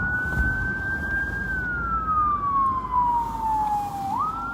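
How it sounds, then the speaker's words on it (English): A loud fire engine siren wails steadily, its pitch sliding slowly downward before sweeping back up, over a constant rumble of road traffic. "I get a siren."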